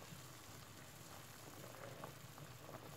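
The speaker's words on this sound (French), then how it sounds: "Voici les pommes de terre coupées en morceaux dans l'eau bouillante, laissez cuire 10 minutes." Chunks of potato cook in a pot of boiling water for a vegetable curry, a steady, soft bubbling simmer heard up close without interruption or voices.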